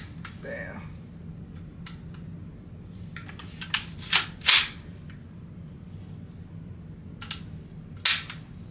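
A Heckler & Koch HK416D rifle clicks sharply during a trigger dry-fire function check, a few crisp snaps spaced across a quiet room, the loudest near the middle and end, between stretches of talk.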